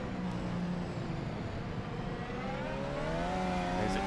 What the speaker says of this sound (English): You can hear the wheel spin